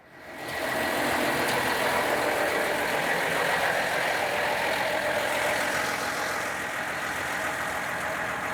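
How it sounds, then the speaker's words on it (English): A Vactor 2100i truck engine running in jet mode, a steady, loud broadband roar and whoosh that swells in within the first second and holds constant throughout, close by with no talk. "we're going to start the truck up, put it in jet mode"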